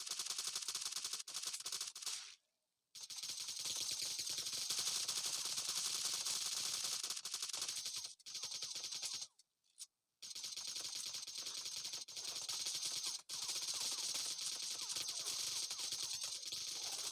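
Gunfire in the zombie mode of PUBG Mobile comes as long, dense bursts of rapid automatic shots. The shooting runs almost continuously, broken by a few brief silent gaps.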